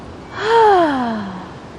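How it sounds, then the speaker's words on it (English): One long breath is let out through the mouth during a slow yoga flow on a beach, a close, loud voiced sigh that swells and then fades over about a second. "Deep inhale, fill the belly. And exhale out the mouth."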